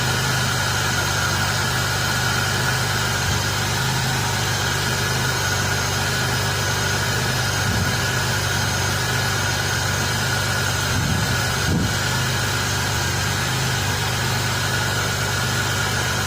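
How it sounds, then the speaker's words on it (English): A Chevy Monte Carlo engine idles steadily up close with a low, even rumble and a faint irregular stumble hinting at a slight misfire; no one speaks. "Does sound like it got a little slight miss to it too."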